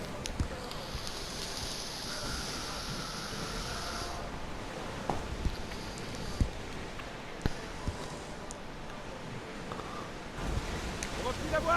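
Ocean waves roll steadily around a sailing ship in Assassin's Creed Odyssey, a constant broad wash of surf and wind at moderate level with occasional soft knocks, no clear speech.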